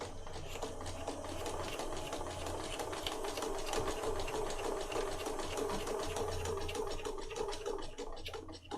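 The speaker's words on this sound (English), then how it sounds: "And then down this edge where I'm sewing my pocket on as I go." Sewing machine stitching a pocket onto paper for a junk journal writing set, a steady fast mechanical needle rattle running close and continuous, with brief slowdowns near the end.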